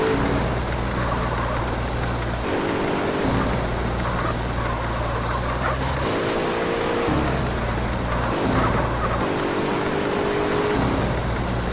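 A car driven in the video game GTA: San Andreas, its steady engine drone running throughout with repeated shifts in pitch as it accelerates and changes gear, loud and close with no talking.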